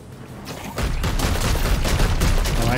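Sustained gunfire in the turn-based tactics game Chaos Gate: Daemonhunters, a dense rattling volley that starts after a quieter lead-in and stays loud to the end.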